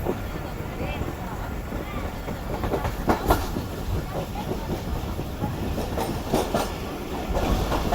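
Rehman Baba Express economy-class train slowing near Shadatpur station, a steady rumble of wheels and carriage with faint clickety-clack and wind noise throughout, heard from inside with some background voices.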